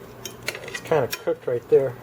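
A knife scrapes and clinks against a plate while trimming a beer-marinated chuck steak glazed with barbecue sauce, with a few short sharp taps near the start and a person talking over much of it.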